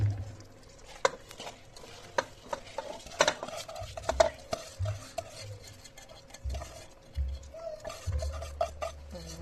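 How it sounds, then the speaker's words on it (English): Rice and potatoes for yakhni pulao are stirred in a pot, with irregular clinks and scrapes of a spoon against metal over a faint low sizzle, close and quiet, with no voices. "I'm gonna stir it"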